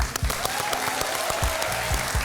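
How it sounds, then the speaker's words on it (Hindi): An audience claps for Lalu ji, a dense burst of applause from a studio crowd on a talk show, steady and loud throughout with no voices over it. "लालू जी के लिए तालियां"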